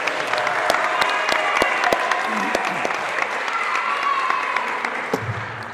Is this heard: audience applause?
yes